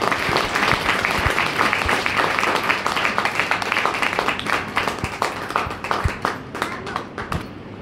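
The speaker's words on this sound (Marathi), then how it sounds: "त्यांच्यासाठी एकदा जोरदार टाळ्या" A crowd at a Women's Day program applauds a couple, loud sustained clapping that thins into a few separate claps near the end.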